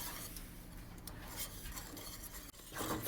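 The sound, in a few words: stirring semolina cake batter with orange peel and butter in a pot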